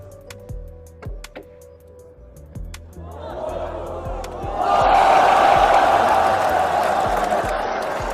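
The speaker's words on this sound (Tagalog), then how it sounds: "Hiyawan talaga ang mga madlang people sa Vietnam sa galing ng ating legend" Crowd at a Vietnamese billiards match with Efren Bata Reyes breaks into loud shouting and cheering that swells midway and stays sustained, after a quieter stretch of ball clicks and murmuring.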